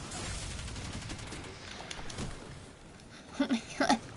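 Hand cannon gunfire in the video game Destiny 2: a few sharp reports fire in quick succession near the end, mixed in with other game noise, and a faint voice can be heard.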